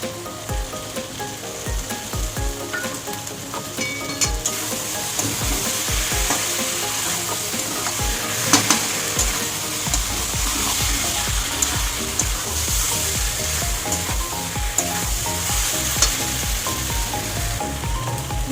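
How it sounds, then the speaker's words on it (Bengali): Unripe jackfruit curry frying in a pan, with fried prawns added and stirred in: loud, continuous sizzling hiss and crackle, repeated scraping and knocking strokes in a steady rhythm, close up, with no talking. "ভালো করে কষিয়ে নেব। এবার দিয়ে দেবো ভেজে রাখা চিংড়ি মাছ।"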